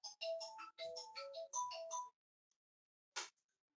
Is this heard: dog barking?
no